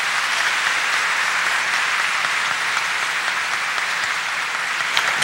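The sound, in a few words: applause for the church choir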